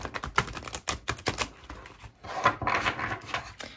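A deck of cards is shuffled, a rapid run of crisp, ruffling snaps and clicks with brief pauses, close up and otherwise quiet.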